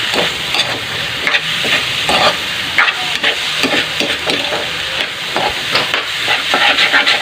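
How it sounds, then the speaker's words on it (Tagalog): Two eggs are stirred into sliced bitter gourd (ampalaya) in a hot frying pan, giving a loud, close, continuous sizzle broken by repeated scraping and stirring strokes, with no talking. "Then, haluin natin sa ampalaya."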